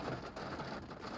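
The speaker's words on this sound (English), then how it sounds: "It's raining really hard." Heavy rain pours down steadily in a dense, even hiss, close by and unbroken for a little over a second, with no voices.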